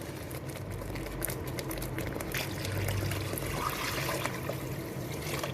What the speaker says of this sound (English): now we're going to add the water.